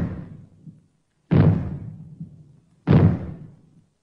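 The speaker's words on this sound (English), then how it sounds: "When fallout is expected, you will hear 3 bangs in short succession." Three heavy booming bangs from maroons sounded as a fallout warning, evenly spaced about a second and a half apart, each decaying into a rumbling tail.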